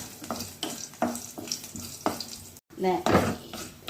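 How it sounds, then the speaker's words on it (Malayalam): Crushed garlic cloves fry in a hot pan with curry leaves, a steady sizzle broken by repeated scraping strokes of a spoon, close and fairly loud, with a brief pause near the end. "വെളുത്തുള്ളി അല്ലി കുറച്ചൊന്ന് ചതച്ചതാണ് കേട്ടോ അത് ഇച്ചിരി ഒന്ന് ഫ്രൈ ആയി വരണം"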